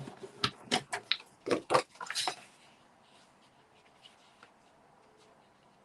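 A scoring tool creases paper at half-inch spacing in a run of sharp, quick scratchy strokes at close range, then the sound trails off into quiet.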